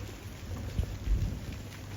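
Steady rain falls outdoors on an autumn day as low thunder rumbles twice in the background, the downpour a constant close hiss.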